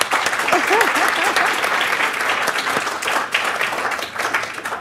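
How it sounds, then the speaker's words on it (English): A crowd applauds steadily, dense clapping filling the whole stretch with a few faint voices underneath. "Please, a round of applause to her."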